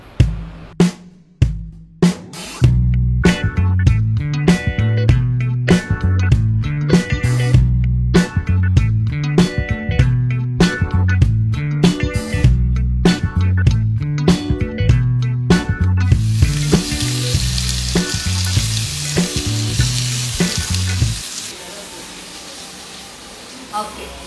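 Gongura leaves with egg masala sizzle in a pan for gongura pulihora, a hiss that rises clearly only near the end beneath loud rhythmic music.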